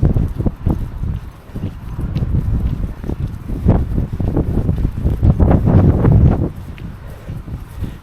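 Gusty wind buffets the microphone in loud rumbling bursts, with rustling and what may be hoofbeats or footsteps underneath, at Great Yarmouth, England.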